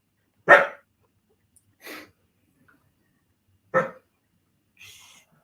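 A dog barks a few times, sharp isolated woofs spaced apart, close by, with quiet between them.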